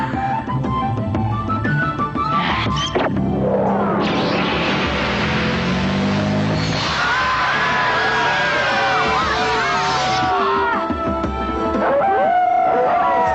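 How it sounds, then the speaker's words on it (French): Cartoon fans howl outside in an animated princess series, a loud chorus of howling, whooping voices rising and sweeping over a busy musical and crowd-like backdrop, held steadily for several seconds. "Ah, je vois qu'il y a des fans dehors. Je les entends hurler à la mort."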